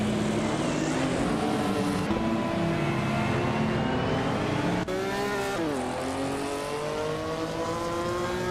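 Race cars, led by a 1990 Nissan Skyline, scream around the Albi track in a video game, engines revving and shifting pitch continuously, loud and close, with a sharp gear change near the middle.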